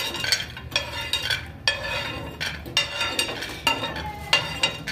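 Peanuts dry-roasting on a hot griddle while being stirred, giving rhythmic scraping and rattling strokes up close with a faint sizzle between them.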